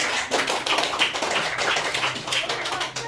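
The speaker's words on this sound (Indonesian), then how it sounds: "Tepuk tangan untuk kelompok satu." Applause from a school class for the first group: a dense patter of many hands clapping close by, steady and lively throughout, with voices mixed in.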